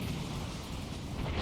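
A dense, sustained explosion blast from the video game Dragon Ball Sparking Zero, a broad rumbling roar that stays loud and steady throughout with no voices over it.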